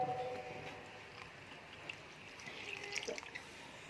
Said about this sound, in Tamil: தேவையான அளவுக்கு தண்ணியை ஊற்றிக்கணும்